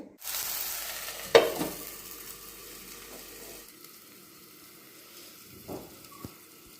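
Radish beans cooking in a pan are mixed again. A hissing sizzle opens the sequence, then a loud utensil knock comes at around one second. The frying fades to a low simmer, and a few soft clacks follow near the end.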